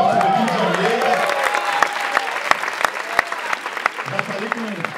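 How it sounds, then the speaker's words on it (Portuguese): Audience at a film talk marking twenty years of Madame Satã claps for a present director, scattered sharp claps and cheering over overlapping voices and talk. "Eu peço uma salva de palmas para o Neville de Almeida"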